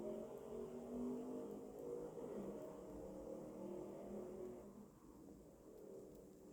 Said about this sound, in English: Whatever that was, I think it was a car.